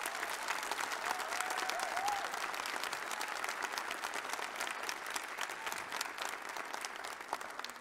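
A concert audience gives a youth orchestra, Orquestra Jovens Gerais, sustained applause. The dense clapping holds steady throughout with a brief whistle or cheer mixed in.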